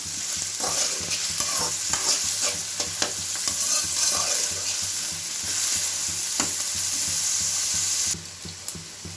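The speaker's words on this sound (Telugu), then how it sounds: "ఆనియన్స్ బాగా ఫ్రై అవ్వాలి ఫ్రెండ్స్, కొంచెం లైట్ బ్రౌన్ కలర్ కావాలి." Sliced onions sizzle in hot oil in a pan for an egg curry, a loud continuous crackling hiss broken by scraping stirs, close by and without voices.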